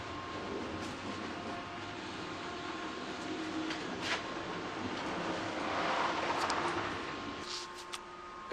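Steady low rumble and hiss inside a moving passenger train travelling from Amsterdam to Berlin, with continuous rolling noise, faint rattles and a brief clunk near the end, no talking.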